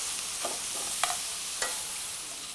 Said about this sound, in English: I'm sauteing some mushrooms in butter until they give up most of their juices.